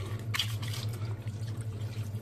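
Water pours into a baking tray holding pork neck on oiled baking paper, a soft steady trickle and splash heard close up over a faint low hum, with no speech.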